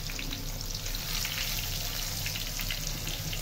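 Large pieces of eggplant fry in hot oil with a steady, dense sizzle and crackle, close and continuous throughout with no talking.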